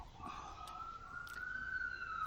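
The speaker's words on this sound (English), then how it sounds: "This is the American sirens that I hear" A wailing American police siren holds a steady, slowly rising tone at a moderate distance over low background rumble, with no talking.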